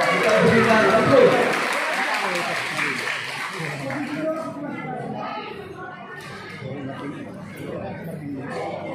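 Audience applause at the installation of newly named officers of the HIMPAK Tanah Karo regional board, a loud sustained clapping crowd that swells near the start then thins and tapers, with faint chatter beneath.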